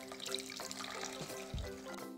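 Water poured from a tap into a small pot holding a trimmed artichoke, a steady running splash with a brief deeper gush near the end, close and alone without talk.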